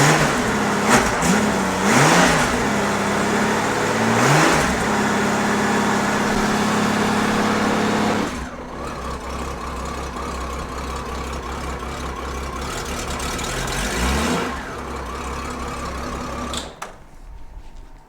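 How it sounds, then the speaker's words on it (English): A motorcycle engine on a battery and charging check revs up twice with rising, falling whines, then settles into a lower steady run before cutting off near the end. "Rev it up."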